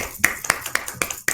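Hands clapping six times in a steady, evenly spaced rhythm, sharp and close, with no voices over them.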